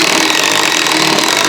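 A power drill drives a self-tapping screw into a steel workbench frame. It makes a loud, steady, high-pitched whir that runs without a break and with no talking.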